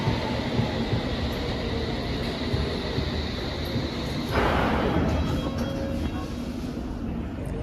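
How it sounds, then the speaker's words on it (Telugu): A London Underground train rumbles into the station, a steady low roar that swells partway through, with faint voices in the background. "అన్ని స్టేషన్స్ కలిసిన ట్రైన్ వచ్చేసింది."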